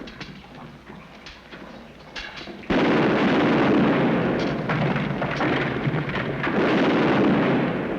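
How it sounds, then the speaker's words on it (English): Dense, rumbling bursts of battle gunfire and blasts from a 1951 war film roll continuously, louder after a quieter opening, with a steady background roar throughout. "That gunfire came from straight ahead."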